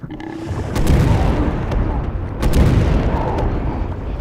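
Explosive grenade launcher rounds go off in Resident Evil 6, two heavy booming blasts about a second and a half apart, each followed by a rumbling tail, loud and close.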